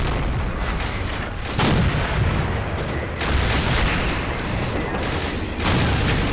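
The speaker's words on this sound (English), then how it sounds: "Random explosions going off from the Russian heavy artillery." Heavy Russian artillery and Katyusha rockets in the World War II strategy game Men of War: Assault Squad 2 produce a dense, continuous roar of overlapping explosions, with several louder booming bursts across the stretch.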